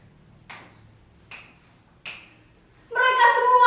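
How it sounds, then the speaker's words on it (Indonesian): Three sharp, separate finger snaps spaced under a second apart in a quiet room, followed by a brief burst of a voice. "Saya hanya menjentik-jentikan jari saya seperti ini."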